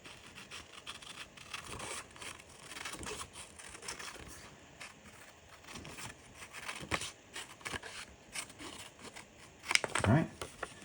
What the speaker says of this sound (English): we're going to cut it out